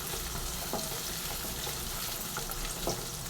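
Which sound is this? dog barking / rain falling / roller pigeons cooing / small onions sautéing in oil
small onions sautéing in oil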